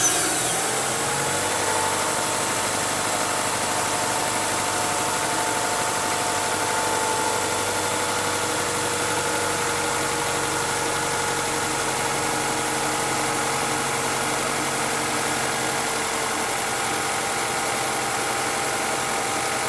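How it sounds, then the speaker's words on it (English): Car engine idling steadily after being started for a battery cranking test with a handheld tester, an even mid-pitched hum with slight vibration running continuously, no voices over it. "Go ahead and start engine and let it run 15 seconds."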